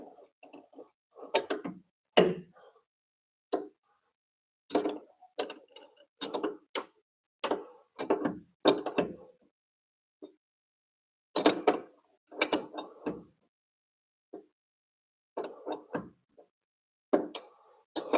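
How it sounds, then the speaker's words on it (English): Wrench turning the lower suspension adjuster on an MR6, a string of sparse, quiet ticking clicks and small metallic creaks in irregular bursts with silent gaps between them, close by. "I guess we can use the wrench on the lower. Yeah. Give it a spin this way."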